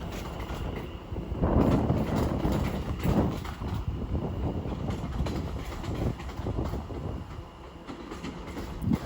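A train passing at Watford Junction on the West Coast Main Line: a rolling rumble with rhythmic clickety-clack of wheels over rail joints, swelling and fading as the carriages go by at moderate distance.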